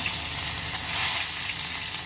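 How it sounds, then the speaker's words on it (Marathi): Ginger-garlic paste hitting hot oil for a tempering for Maharashtrian tikhat dal gives a steady close sizzle of broadband frying hiss, swelling slightly midway, with no talking. "आलं आणि लसणीची जी मी ही पेस्ट बनवून घेतली आहे ती आपण टाकूया"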